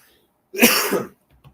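A single short cough, close and fairly loud, followed by a faint quiet sound afterward.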